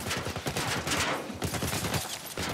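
Rapid bursts of gunfire in The Last of Us on PS5 crackle in dense, repeated volleys, fairly loud and unbroken through the short stretch with no clear talk.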